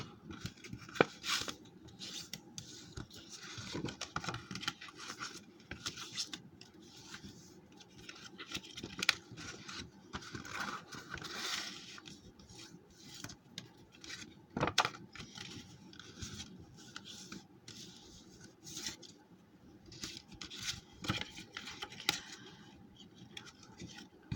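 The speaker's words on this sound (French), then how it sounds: "on marque nos plis, bêtement, en accordéon" Paper being folded into accordion pleats for an interactive booklet, with continuous crinkling, creasing and rubbing sounds and scattered sharper crackles. The handling noise is close and steady throughout, with no clear talking.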